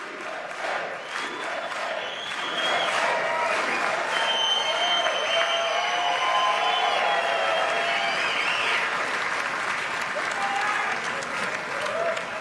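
A large chamber crowd at the State of the Union applauds and cheers continuously, a dense sustained roar of clapping and shouts with some chanting voices, filling the whole stretch at steady loudness.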